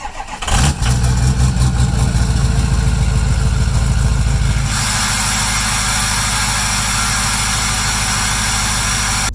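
A red Ford F550 truck with its catalytic converter stolen cranks and fires up, then settles into a loud, raw, whiny idle with a harsh exhaust drone that changes pitch midway and keeps running steadily.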